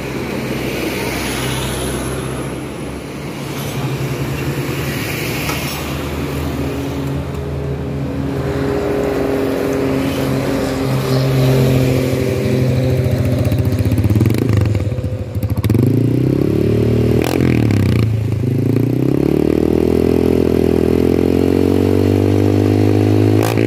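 A Honda Beat scooter fitted with a custom exhaust idles loudly up close, then is revved several times in rising and falling bursts, the engine note climbing sharply before settling back.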